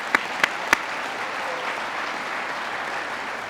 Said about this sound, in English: how about a round of applause to Heather